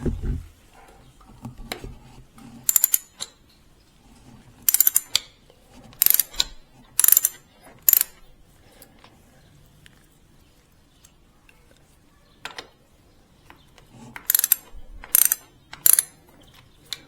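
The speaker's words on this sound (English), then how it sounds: "To remove the inner pinch bolts, I need to completely unscrew" A ratchet unscrews the pinch bolts on the front forks of a Suzuki DR-Z400S, close, sharp clicking bursts coming in irregular groups separated by quiet pauses.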